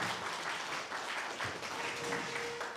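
An audience at a real-estate event mimicry show gives a round of applause, a faint, steady spread of clapping heard from a distance for a few seconds.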